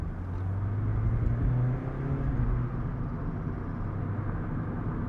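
A 2021 Mazda MX-5 Miata Club with a manual transmission pulls away, its engine a steady low rumble that swells briefly in the first couple of seconds and then settles into an even, continuous drone from inside the cabin.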